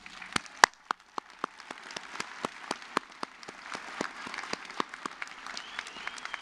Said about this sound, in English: let's give them a warm and grateful round of applause